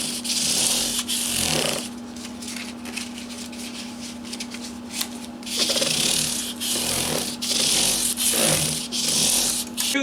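Sandpaper rubbing the body of a 1991 PRS Custom 24 guitar in fine grits, a steady back-and-forth rasp with louder bursts of strokes over a constant low hum.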